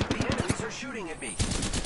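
Rapid bursts of automatic gunfire in the battle royale game Apex Legends, sharp close shots in two quick volleys separated by a short gap, with a voice briefly heard between.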